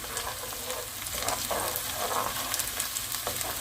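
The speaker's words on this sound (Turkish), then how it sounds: "Sarımsaklarım da 1-2 soğanla kavrulmasını bekliyorum." Small unpeeled garlic cloves fry with onion in a pan, a steady crackling sizzle with soft stirring scrapes throughout.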